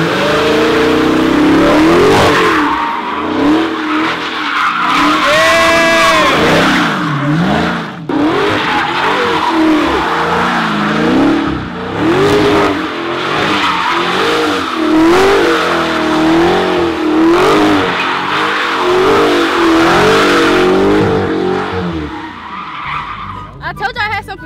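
A car does burnout spins, its engine revving and wavering hard while the tires squeal and skid continuously for over twenty seconds, loud and close, with a voice talking over it.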